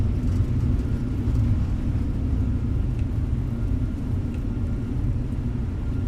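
An Airbus A321's engines roar in reverse thrust during landing rollout, a steady loud low rumble with broadband whoosh that holds constant throughout, no voices.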